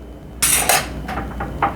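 Metal lids go onto glass canning jars packed with deer meat. Several close, sharp clinks and rattles sound in quick succession.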